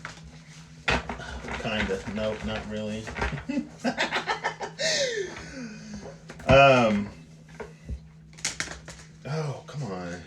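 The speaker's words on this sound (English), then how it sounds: "now y'all can see how terrible I can be at shuffling." A deck of playing cards is shuffled clumsily in several quick riffling and clattering bursts, close and fairly loud, broken up by a person talking in between.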